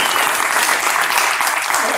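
Loud, dense audience applause from a standing ovation, steady clapping filling the room from start to finish.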